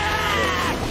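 A single loud, sustained yelled scream from one person, held for under a second. The voice imitates the cartoon character Baku's signature "Shine!" cry.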